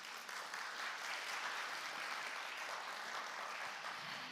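A steady round of applause welcomes His Excellency Mr. Choi Hoon, Ambassador of the Republic of Korea to Singapore, at a formal event in Singapore, the dense clapping sustained evenly for several seconds with no voices over it.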